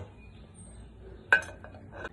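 Dishes and cutlery clink while green chilli egg rice is served: one sharp metallic clink stands out over a quiet room tone, followed by a few softer taps and scrapes.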